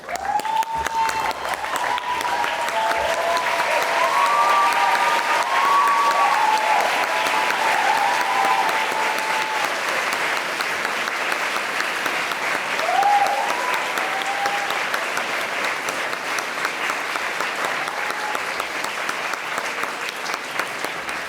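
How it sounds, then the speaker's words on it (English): A graduating class rises in a school hall to give the families at the back a standing ovation, with loud, sustained applause and a few cheers running unbroken for over twenty seconds. "getting up, turning around and giving them a standing ovation"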